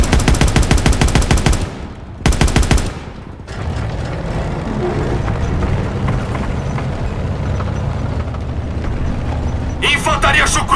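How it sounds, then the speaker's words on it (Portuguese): In Call of Duty: WWII, rapid bursts of small arms gunfire crackle in quick rhythmic volleys, then give way to a dense roar of battle noise before another burst near the end. "Tiros de armas leves!"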